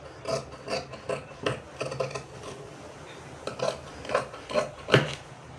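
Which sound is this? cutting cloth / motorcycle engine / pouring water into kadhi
cutting cloth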